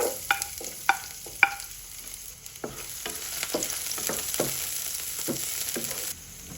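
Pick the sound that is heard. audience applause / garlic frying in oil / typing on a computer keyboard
garlic frying in oil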